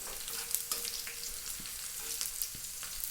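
Cumin seeds sizzle and crackle steadily in hot oil, close and fairly quiet, with small pops scattered through the hiss.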